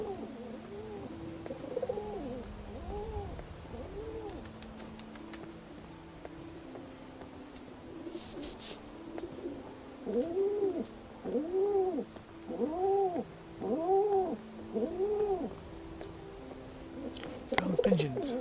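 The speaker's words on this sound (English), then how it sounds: "Damn pigeons." Pigeons coo from nearby in a series of soft, rounded, repeated calls that grow steadier toward the end, with a brief rattle partway through and a faint background hiss.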